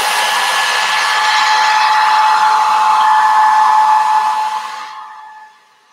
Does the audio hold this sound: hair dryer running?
yes